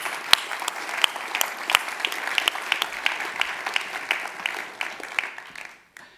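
An audience at a Swiss startup award ceremony gives warm, sustained applause for Christoph Gebald of Climeworks, dense clapping with a few sharper individual claps that fades out near the end.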